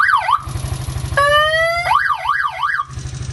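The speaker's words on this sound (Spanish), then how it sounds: "¿Y la bocina? ¿El claxon?" A motorcycle horn blares as a loud electronic siren, shifting between warbling wails and a rising multi-tone sweep over a low idling engine pulse.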